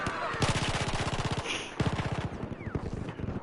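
Rapid automatic gunfire from the video game Battlefield 4 rattles in two long, fast bursts, loud and close, with fainter game noise between them.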